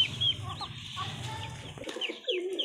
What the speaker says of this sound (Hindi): सिल्की मुर्गी आ गई है ये भी अभी खाएगी